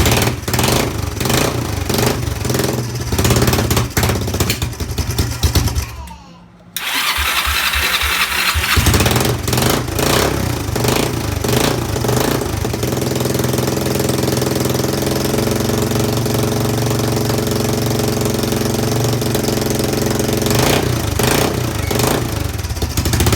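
A Kawasaki ATV engine, freshly worked on at the carburetor, runs on choke, loud and close with a steady rough idle that drops out briefly before catching and running on continuously.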